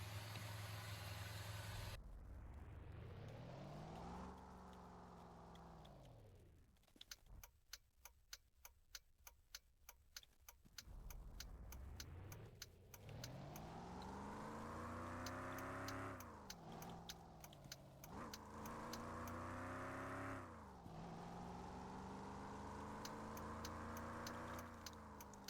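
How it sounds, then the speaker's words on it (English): Hurley Striker car in the Roblox game Test Drive starts up, then its engine note rises and falls through repeated revving and gear changes while cruising, with a rapid ticking passage early on. "it's time to start the car and go on a little cruise"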